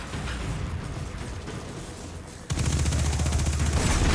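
Rapid automatic gunfire in the video game Destiny 2, a dense stream of shots that grows louder and more intense partway through, close and continuous.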